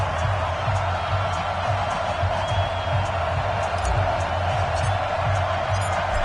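A stadium crowd in an EA Sports NFL video game before a Carolina Panthers matchup keeps up a steady, dense roar and cheer. The noise stays loud throughout, with faint higher shouts on top.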